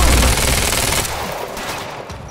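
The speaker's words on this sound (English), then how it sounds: "Let's go back to our SMG." SMG gunfire in Quantum Break: a loud, dense burst of rapid shots that fades into a trailing reverberant rattle and echo.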